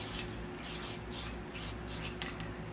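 A spray paint can sprays white paint in short repeated hissing bursts, close and fairly quiet, with brief pauses between each pass and no talking.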